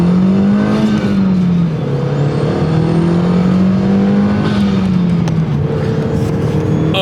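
A 2002 Audi TT engine pulls hard under acceleration, a loud steady drone whose pitch climbs, dips slightly and rises again through the gears. It is heard up close with no talking.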